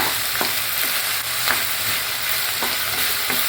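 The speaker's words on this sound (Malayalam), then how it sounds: "സവോള ഇട്ട് കൊടുക്കുക ഇനി ഇത് നന്നായിട്ടൊന്ന് ഇളക്കി യോജിപ്പിക്കുക" Sliced onions fry on medium heat in a non-stick pan, a loud continuous sizzle with occasional scraping strokes of a spoon stirring them, close up and without talk.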